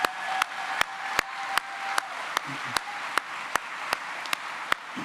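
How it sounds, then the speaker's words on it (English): Steady, regularly spaced claps cut through a broad crowd murmur at a college convocation ceremony, modest and rhythmic rather than thunderous. "I'd like if we could just give them a little bit of round of applause."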